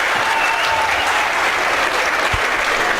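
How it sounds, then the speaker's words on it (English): Crowd applause fills a gym at a girls' basketball game between New Oxford and Central York, a dense, steady wash of clapping from a full audience lasting a few seconds, with no one speaking over it. "he's able to get it over to applause from the crowd"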